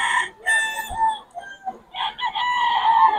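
Roosters crow repeatedly and overlap, with a few clucks in between, close and loud in a busy market in Bocaue while it rains and the chickens are wet.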